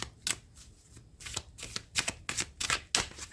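A tarot card deck being shuffled by hand, giving a run of crisp, riffling bursts in quick irregular succession, close and fairly loud, with no talk over it.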